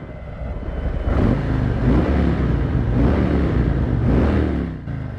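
A Harley-Davidson Street Glide with its stock exhaust revs three times in quick succession, each loud blip swelling and easing, close by with no talking over it.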